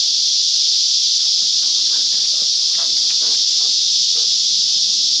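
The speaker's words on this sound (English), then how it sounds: "I think every cicada in the area just got loud all of a sudden." A dense, loud, continuous high-pitched buzz of cicadas fills the air in Arizona's mid-elevation desert, steady throughout, with faint rustling underneath.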